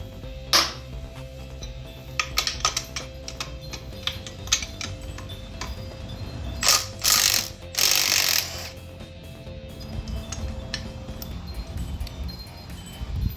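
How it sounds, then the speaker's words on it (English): Wrench and tools working an 11/16 nut while pulling a Harley Sportster motor for a hardtail install: scattered metallic clicks and ratcheting taps over a low hum, with a few louder sharp bursts in the middle. "Might have to hold that with the wrench and then hit the other side."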